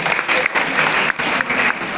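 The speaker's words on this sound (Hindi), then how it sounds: "इनके लिए एक बार जोरदार तालियां।" Audience at a Haryana student competition claps loudly for the students in continuous applause that comes in surging waves, with no talk over it.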